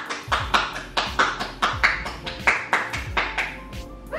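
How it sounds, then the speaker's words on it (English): Slow, evenly spaced clapping from a small at-home group, roughly three claps a second, with sharp individual hand strikes that stay distinct rather than blending into a crowd's roar. "Everybody give us a round of applause."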